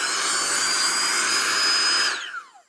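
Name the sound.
GOPUSA portable air compressor inflator running in blower mode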